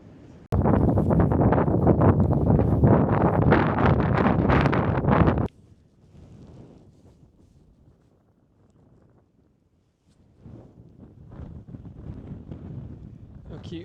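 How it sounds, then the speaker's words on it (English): Strong gusts batter the microphone on an exposed hilltop, a loud roaring rumble for several seconds before easing into softer, intermittent buffeting, with a person talking in between. "I don't know if the best wind block in the world can block this wind"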